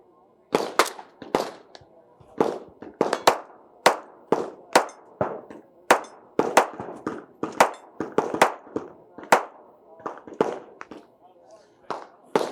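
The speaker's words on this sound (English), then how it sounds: "I'm going to run one more magazine quickly through it just to see how it responds." Lightweight rifle with a polymer lower firing a full magazine outdoors, about two dozen sharp loud shots in quick uneven bursts with short pauses between.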